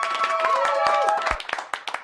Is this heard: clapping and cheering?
yes